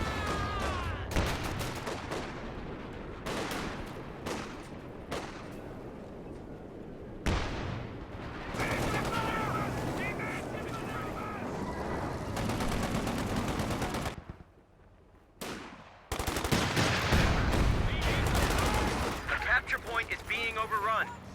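MG34 machine guns rattle in a Company of Heroes battle, with bursts of rapid automatic fire and scattered gunshots and explosions that keep going through the scene, briefly dropping out midway, under a caster's steady commentary.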